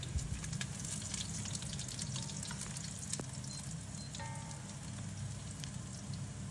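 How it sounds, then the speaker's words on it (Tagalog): Garlic frying in a little oil in a pan gives a steady, soft sizzle and crackle throughout, fairly quiet, with occasional faint clinks and no talking. "Nilagay ko na yung bawang at pinabrown ko na siya."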